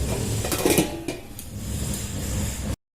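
Metal pot lid lifted while green papaya chutney cooks, a few clanks and scrapes of metal against metal up close, then quieter kitchen noise before an abrupt cutoff.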